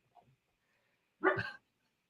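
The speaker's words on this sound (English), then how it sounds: "My dog's barking at the thunder." During a thunderstorm, a dog lets out one sharp, fairly close bark after a couple of faint little yips, with quiet in between and no thunder clearly audible.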